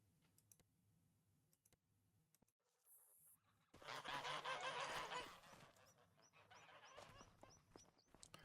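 A flock of geese in Farming Simulator 25 honks in a loud, crowded burst midway, then fades to softer calls, with scattered sharp clicks before and after; no one speaks.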